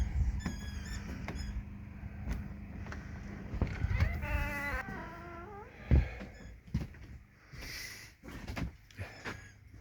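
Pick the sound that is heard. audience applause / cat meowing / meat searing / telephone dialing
cat meowing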